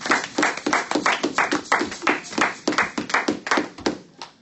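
A church congregation claps in a steady, fast rhythm of sharp hand strikes, close and loud, repeating evenly for several seconds to acclaim Jesus during a French-language sermon.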